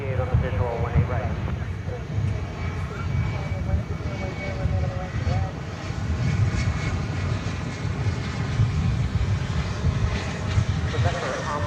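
An Envoy airliner lands on runway 18 right at DFW airport, a steady loud engine roar rumbling throughout, with tower radio talk over it.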